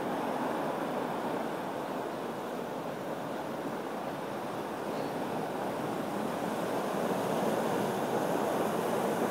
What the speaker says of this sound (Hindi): बहुत ज़्यादा पानी निकल रहा है इस तरफ।